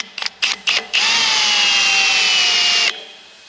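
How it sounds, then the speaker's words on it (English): An electric drill whirs in a few short bursts making a pilot dimple in metal, then runs steadily for about two seconds with a slight pitch drop before stopping, loud and close. "hopefully the drill bit doesn't walk because I'm holding the drill with one hand right now"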